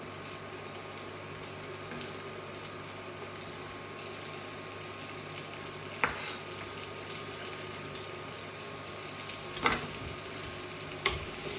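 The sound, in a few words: bell peppers frying in a pan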